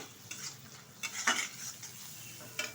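Fried onions with cumin and chili powder stirred in a pan, soft scraping strokes and light clinks in quiet bursts over a faint sizzle, close and low in level.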